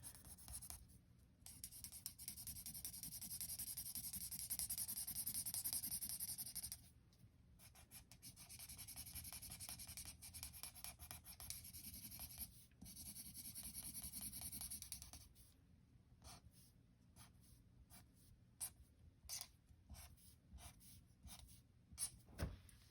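Quiet, close scratching and rubbing of a colouring pencil on paper as a pumpkin patch picture is coloured in by hand, in bursts of strokes separated by short pauses.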